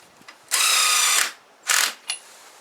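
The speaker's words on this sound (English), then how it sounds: "just spin a lug nut on" A power tool whirs as a lug nut is spun onto the wheel hub of a 2000-2006 Chevy/GMC truck, a longer close burst followed by two shorter ones.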